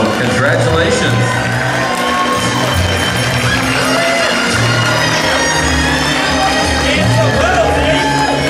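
Wedding guests cheer for the bride and groom, a dense, continuous crowd roar of whoops, shouts and excited voices filling the room loudly throughout.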